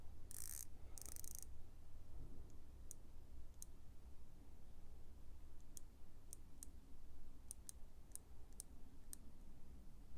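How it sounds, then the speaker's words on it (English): A ceramic 90-click unidirectional watch bezel is turned, producing a sparse series of small, sharp clicks spaced irregularly over quiet room hiss, after a brief louder rustle at the start. "The bezel, I believe, is a ceramic bezel, and is a 90 click unidirectional bezel."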